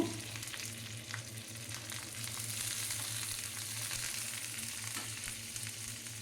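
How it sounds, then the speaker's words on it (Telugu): Cashews and curry leaves frying in a pan with cumin, a soft, steady sizzle with faint crackles, quiet and continuous with no talking. "ఒక స్పూను ఇది కొంచెం వేగాలండి క్యాష్యూ కొద్దిగా వేశాను కరివేపాకు"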